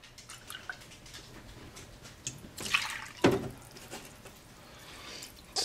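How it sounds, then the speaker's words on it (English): Milk pours into a pot of curry, faint liquid splashing and trickling that swells briefly mid-way, then fades back into quiet dripping in a still kitchen. "I'm going to add another cup of milk"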